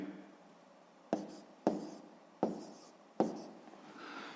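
Long-division figures are written by hand on paper for a sixth-grade maths exercise. Four distinct pen strokes sound close by in a quiet room, each with a sharp start and a brief scratchy tail.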